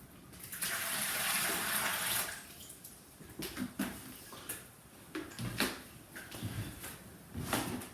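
Water pours in a steady rush for a couple of seconds from two 2-litre jugs into a bucket, followed by scattered knocks, splashes and handling sounds at close range.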